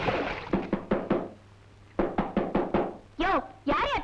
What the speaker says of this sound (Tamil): யாரையா தோட்டத்துக்கு கதவை தட்டுறது?